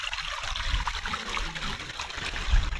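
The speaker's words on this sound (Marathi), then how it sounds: "बघा पाणी वाहिलेलं पण बघायला भेटते." Rainwater trickles and streams down a hillside at Brahmagiri fort in steady, continuous flow, fairly close and alone without talk.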